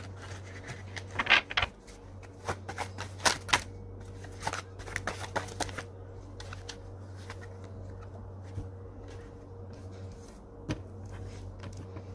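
Playing cards being shuffled and handled during a tarot-style reading, with a few crisp riffling bursts early on, then quieter scattered taps and flicks over a low steady hum, with no one speaking.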